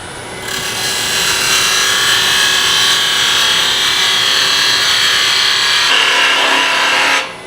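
Wood spinning on a lathe as a tool rounds off a wooden tool handle: a steady, loud, continuous scraping hiss that holds unbroken for several seconds before stopping abruptly.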